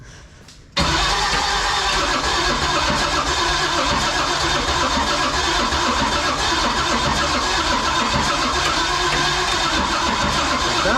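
An old barn-find tank engine cranks and catches almost at once, then settles into a loud, steady, rough roar that runs unbroken and close for the rest of the time.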